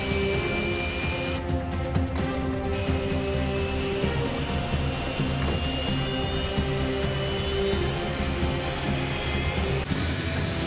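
An airplane engine in a scene from the TV show Prison Break, a loud, constant jet-like roar filling the whole stretch without any speech over it.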